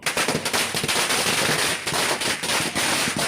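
Firecrackers set off by party workers at a victory celebration crackle in a dense, continuous barrage of sharp pops, loud and close, with no pause through the burst.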